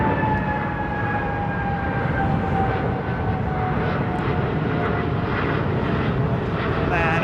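An airliner's engines at London Heathrow Airport throttling down, a loud steady roar with whining tones that slowly fall in pitch, heard continuously from nearby.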